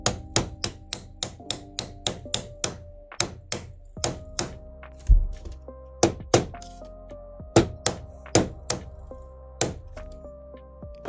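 A cobbler's hammer strikes pieces of a 3D printed X-Wing model, giving a steady run of sharp, close knocks. The blows come in quick bursts with brief pauses between them, and no one speaks.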